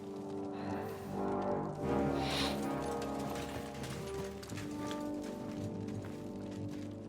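Horses gallop in the video game Kingdom Come Deliverance 2, their hoofbeats mixed into a dense layer of tonal music and mechanical rattling, moderately loud and continuous.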